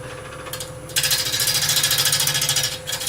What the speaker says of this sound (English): So if I just grab a bowl gouge, turn the lathe on